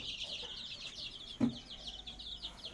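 Sixteen-day-old Sonali chicken chicks, mostly black with some white, peep continuously in a rearing pen, a faint, steady flock of high chirps with one brief soft thump midway.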